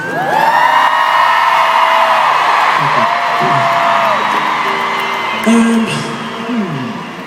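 A big concert crowd at a show whoops, yells and cheers loudly for the local crew, with sustained high-pitched shouts and a roaring mass of voices throughout.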